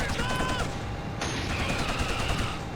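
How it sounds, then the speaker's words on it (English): A Helghast sniper rifle in Killzone fires with a sharp report, and mechanical rattles follow. Game noise and music run dense and loud underneath the whole time. "That's how powerful the Helgas sniper rifle is"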